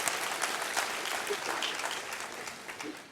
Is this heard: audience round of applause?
yes